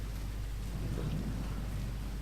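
A thunderstorm in the video game Tomb Raider 2013: steady rain and a deep, continuous thunder rumble, with no voices.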